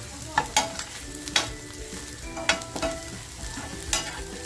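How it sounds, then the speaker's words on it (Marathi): Onions fried until reddish brown in a pan for mutton pepper fry, with a steady sizzle under repeated sharp scrapes of a spoon stirring against the pan, close and fairly loud, no talking. "बघा आपला कांदा सुद्धा आता छान लाल झालेला आहे"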